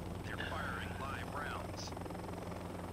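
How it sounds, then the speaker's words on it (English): An AH-6 Little Bird attack helicopter in the video game Joint Operations gives a steady, loud rotor and engine drone with a low hum, while a voice talks over it. "Hop in the AH-6 Little Bird attack helicopter and follow the waypoint path to the objective."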